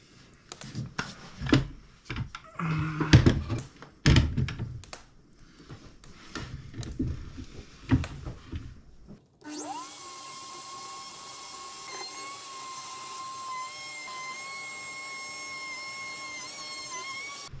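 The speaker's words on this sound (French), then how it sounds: "On va y faire une rainure dans ce sens-là. On va le faire dans un premier temps avec l'aspiration." A Triton MOF001 router cuts a groove in wood with dust extraction connected. First come clattering handling and knocks, then the motor starts abruptly and holds a steady high whine with a vacuum roar underneath.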